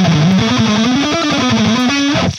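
An electric guitar plays a scale sequence exercise with a distorted tone, notes stepping up and down in a steady, continuous run that is loud and close before stopping abruptly.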